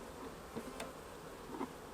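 Honey bees buzz around a queen cage set near the middle of the brood nest, a soft, continuous hum with a few brief closer swells.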